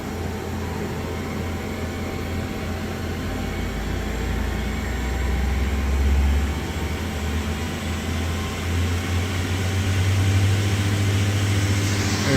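Mazak Nexus 200MSY II CNC lathe from 2009, spindle spinning up, a steady machine drone and hum whose low pitch rises and strengthens over the stretch, continuous and close with no talking.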